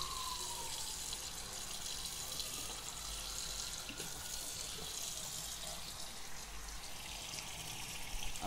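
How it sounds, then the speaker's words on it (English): Steady running water from a faucet pours continuously while cyanotype prints are rinsed, a constant close hiss and splash with no talking. "Got some running water."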